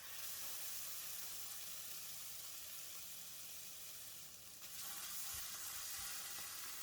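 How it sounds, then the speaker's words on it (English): Homemade sambal frying in a pan, a faint, steady hiss of sizzling oil with a soft stir or two near the end. "add in all the sambal"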